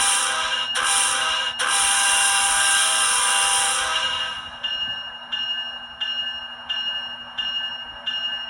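A ScaleTrains ET44 model locomotive's engine sound, a loud hissing, buzzing drone that then settles into a repeating rhythmic pulse of bursts roughly every two-thirds of a second, heard alone without talk.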